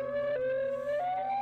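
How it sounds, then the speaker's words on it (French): A modulated warning siren wails loud and steady, its pitch stepping between tones in a continuous electronic cycle with no voices. "Si un jour tu entends l'une de ces 3 sirènes, ta vie est sûrement en danger."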